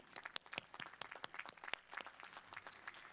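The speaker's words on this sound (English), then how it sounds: "let's give Dr. Hagan another round of applause." An audience at a university commencement ceremony applauds, a fairly faint, distant patter of many hands clapping steadily with a few sharper close claps.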